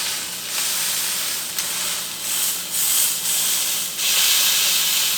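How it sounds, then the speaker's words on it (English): Steak searing in a hot pan, a steady loud hiss and sizzle of fat that swells in a few bursts over several seconds, with no voices. "you want to make sure you've got it good, the pan good and hot before you pop it in here"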